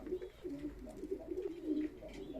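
Young play pigeons in a loft giving a steady run of soft, low, throaty coos that overlap and repeat continuously at a faint, close level.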